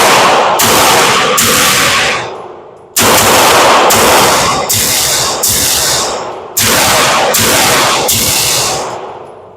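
Walther PDP pistol firing loud, close shots in three quick strings of two or three rounds each, every report sharp with a ringing decay outdoors.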